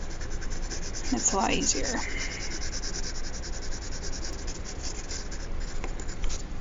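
Pencil shading on paper produces a steady, close scratchy rubbing that continues throughout, with a person speaking briefly over it near the start.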